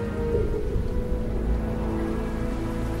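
Steady heavy acid rain pours down in a dense, even hiss with a low rumble beneath it, constant and close throughout.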